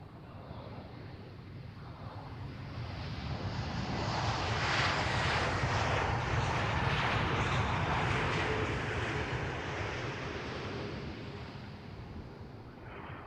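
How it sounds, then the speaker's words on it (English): A new Airbus A321 passing at Amsterdam Schiphol Airport, its engine roar swelling steadily to a loud, broad rumble midway and then slowly easing off while still close. "Alrighty, the A321, the new one."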